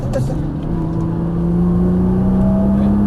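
A Nissan GT-R on a race track pulls at full throttle, its engine note climbing smoothly and loudly as it accelerates, close and continuous throughout.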